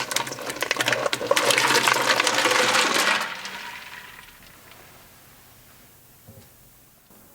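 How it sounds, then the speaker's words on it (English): Ice tumbles loudly into a pot of turkey brine for the first three seconds, a dense clattering splash that fades into quiet liquid settling, ending with a soft knock. "I'm going to add a whole bunch of ice to this brine"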